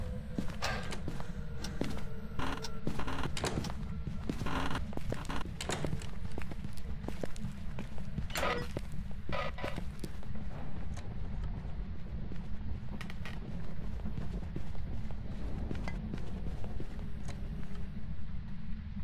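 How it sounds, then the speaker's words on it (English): Ghost footsteps during a hunt in a ghost-hunting video game come as a rapid, uneven run of soft thuds over a constant low rumble, with no talking. "here's like an example of where you just want to be listening to the footsteps, you know, listen to the footsteps."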